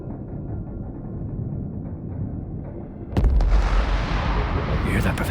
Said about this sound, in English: Cannon fire. They're trying to blow us out of the water.